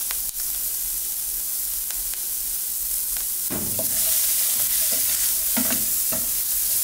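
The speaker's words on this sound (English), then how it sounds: "In the same skillet, we're going to add onions." Onions sizzle in oil in a skillet over medium heat, a steady broadband hiss with scraping stir strokes that grow louder and busier partway through, with no voices.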